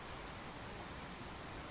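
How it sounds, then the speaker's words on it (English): Rain falls in the Fallout 4 game world as a soft, even hiss of steady downpour, continuous and unbroken with no other sounds over it. "Is it raining?"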